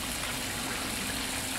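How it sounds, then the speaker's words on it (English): Steady rushing of a backyard pond waterfall, a continuous splashing wash without pauses, moderately loud and close. "It's my waterfall,"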